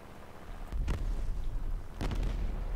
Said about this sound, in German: Da sind schon zwei von uns explodiert.